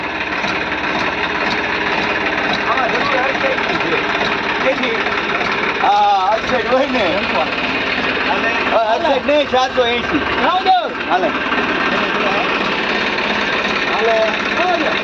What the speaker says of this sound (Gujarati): વગર બળ કરી આસાનીથી ટ્રેક્ટરથી ખેંચાઈ જાય છે